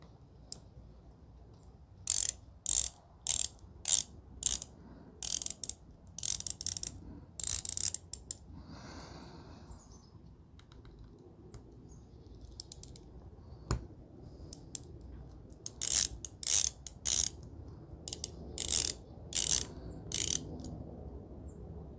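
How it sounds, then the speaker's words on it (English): A ratcheting screwdriver backs out the bottom screws of an Uberti revolver. Sharp bursts of rapid clicking come in short repeated groups, close and loud, with a quieter pause midway and no talking. "Now let me switch my bits back over and we'll get the bottom screws."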